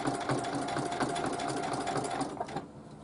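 A sewing machine stitches the seam of a pillowcase with an eyelet ruffle border, running in a steady, continuous close-up whir with a rapid needle rhythm that stops near the end.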